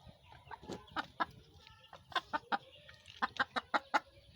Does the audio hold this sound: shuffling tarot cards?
no